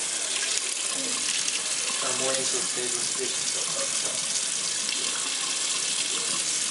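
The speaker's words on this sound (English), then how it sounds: "Faucet, everything works fine." Kitchen faucet running in a house during a property inspection, a steady gush of water into the sink that continues throughout while people talk quietly nearby.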